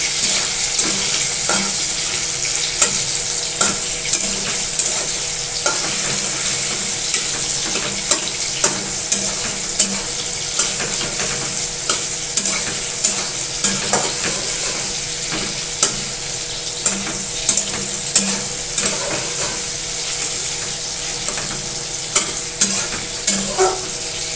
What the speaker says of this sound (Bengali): কষাবো, নাড়াবো খুন্তি দিয়ে।